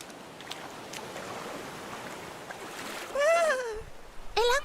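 Cartoon water splashing as a child and his grandfather play in the water, a steady rushing wash of splashes followed by a brief whistling tone and a louder burst of splashing near the end.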